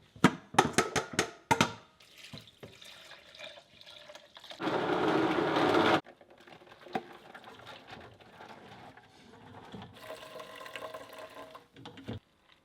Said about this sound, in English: We'll put the rest of the coconut in the blender here